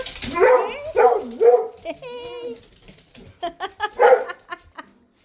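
Several dogs bark, yip and whimper in short excited bursts before a trip to the vet, close by, mixed with people talking over them.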